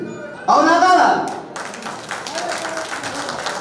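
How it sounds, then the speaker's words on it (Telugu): A crowd claps at a BRS party joining rally in Shankarampet mandal, Telangana. A loud speaking voice comes first, then a dense spread of clapping follows. "క్లాప్స్ కొడతారు"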